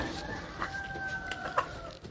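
A rooster crows nearby amid scattered clucking from chickens, with faint background noise.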